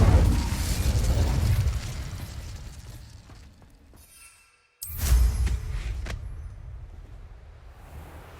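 An Incendio fire spell blast from the Hogwarts Legacy video game goes off as a loud, close whoosh and roar, fading to near silence. A second sharp burst of flame follows with a crackling tail.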